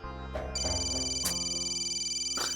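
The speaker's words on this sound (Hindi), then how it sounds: "फोन बज रहा है तुम्हारा।" A mobile phone rings indoors with a steady, loud synthetic ringtone melody of sustained tones and short accents, heard close and alone for the whole stretch.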